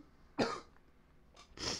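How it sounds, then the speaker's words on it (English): Two or three close, harsh coughs from a podcast host, separated by a brief pause, fairly faint overall. "I'm sorry about all the coughing, everyone."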